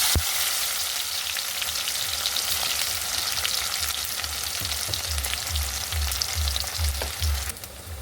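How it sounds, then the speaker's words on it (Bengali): Sliced onions fry in mustard oil in a wok, a loud, steady sizzle and crackle lasting throughout with occasional stirring scrapes, no voices. "আগে আমি বেরেস্তাটা ভেজে নেবো"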